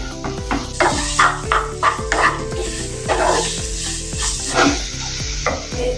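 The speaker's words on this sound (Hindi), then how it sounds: "अच्छे से मिक्स कर लेंगे।" A ridge gourd and potato curry is stirred in a pan. A spoon scrapes and sweeps through it in repeated strokes over a constant loud sizzle, and a few sharp tonal clanks ring out along the way.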